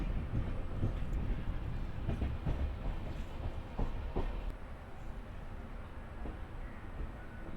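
The Gurumukhi Superfast Express rumbles steadily along the Asansol to Kolkata line near Burdwan junction, a continuous low roar broken by occasional rail clacks and knocks from close by.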